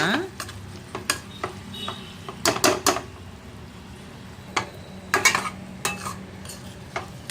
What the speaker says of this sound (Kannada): ಈಗ ಲೋ ಫ್ಲೇಮಲ್ಲೇ ಫ್ರೈ ಮಾಡ್ಕೊಳ್ಳೋಣ ಒಂದು ಐದು ನಿಮಿಷ